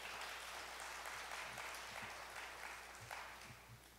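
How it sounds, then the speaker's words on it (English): Church congregation clapping in applause, a dense, steady patter of many hands heard at moderate distance, continuing throughout and tapering slightly near the end. "let's give them a big round of applause."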